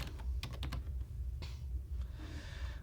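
Computer keyboard typing, a few quick bursts of soft key clicks followed by scattered single taps, close and quiet with no talk.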